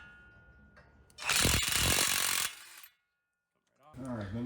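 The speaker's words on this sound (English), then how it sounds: "Should be able to just hit it with an impact." An impact wrench rattling hard on the 21 mm tie rod end nut of a 2007-2013 Tahoe or Silverado front suspension, one loud buzzing burst lasting over a second, close by, with speech before and after.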